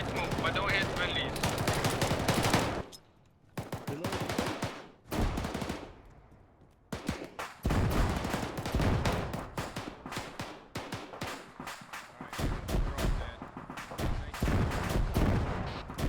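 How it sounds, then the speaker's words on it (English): Tank rounds cook off during a night convoy battle in ARMA 3, sounding as heavy, rapid crackling bursts and booming blasts in irregular clusters, loud and dense, broken by brief quiet gaps. "those tank rounds cooking off are heavy"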